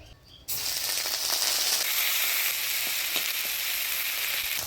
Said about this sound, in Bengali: মোচার ঘন্ট মধ্যে ফোড়ন দিব শুকনো লঙ্কা গোটা জিরা তেজপাতা